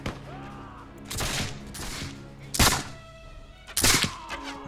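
Black-powder gunshots in Mount and Blade: Fire and Sword, four sharp reports spaced roughly a second apart, each loud and cracking over a background of battle noise and brief voices.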